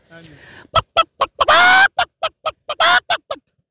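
A voice imitates a hen, giving a rapid string of short clucks broken by two longer squawks, loud and close.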